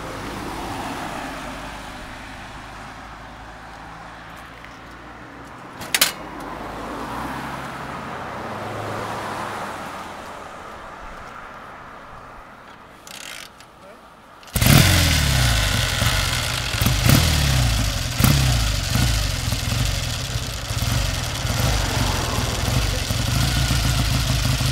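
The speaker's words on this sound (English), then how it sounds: "They're gonna start the bikes up and disappear in a minute." Two Triumph Tiger 110 classic motorcycles start up partway through, first a quiet engine background, then a sudden loud rumble that settles into a steady, throbbing idle close by.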